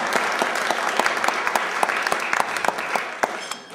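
Applause from the audience at the Women's Breakfast of the 2013 Munich Security Conference, a room of many hands clapping with distinct individual claps standing out, steady and fairly close.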